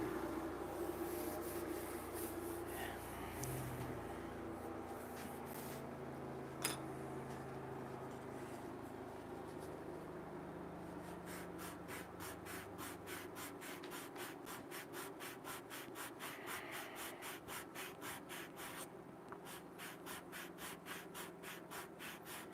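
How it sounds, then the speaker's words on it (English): A wooden top piece is sanded by hand, with soft, quiet rubbing that settles into a steady back-and-forth rasp of even strokes. "I think I better sand that top piece by hand."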